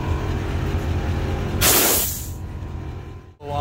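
Hissing blast of compressed air from an air hose filling a truck's air bag suspension, a loud broad burst lasting under a second over a steady low idle rumble, then tapering off.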